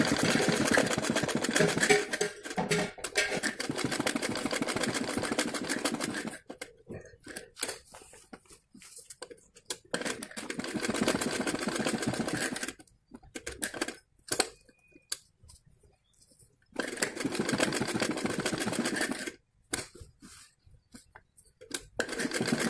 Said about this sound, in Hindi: अब हम यहाँ पर टैट्रोन से नीचे नीचे सिलाई लगाएंगे पूरे गले में बराबर बराबर।